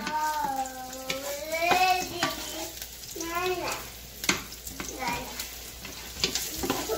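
Onion sizzles and fries in a pan for chicken curry, with steady crackling and occasional stirring scrapes beneath a person talking through most of the moment.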